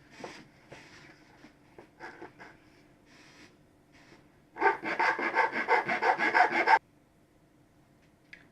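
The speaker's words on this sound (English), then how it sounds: "Let's get filing." Hand file rasping along the edge of a Moto Guzzi V7 front mudguard being shortened: a few faint strokes, then a loud, close run of quick rhythmic back-and-forth strokes that stops abruptly.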